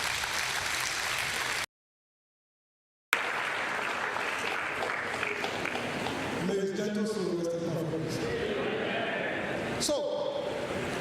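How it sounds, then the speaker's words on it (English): An academic audience applauds at a university talk on fundraising, a dense, continuous roar of clapping that briefly cuts out to silence, then resumes and continues while a voice speaks over it toward the end. "So let's give a round of applause, Professor."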